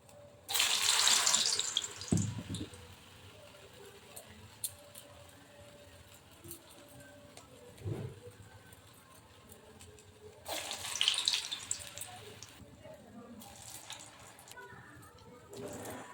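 A kitchen tap runs in two short bursts while hands are wetted during the shaping of urad dal roshbora fritters, with quieter handling sounds and light movement between them.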